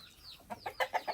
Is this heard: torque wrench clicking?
no